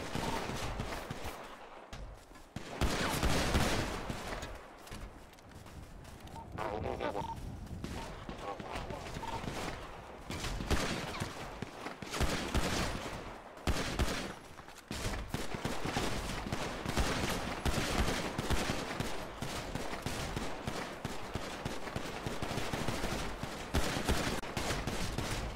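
Rapid gunfire bursts crackle almost continuously through a 3v3 arena video game match, shots coming from several directions, with excited player voices talking over the shooting throughout.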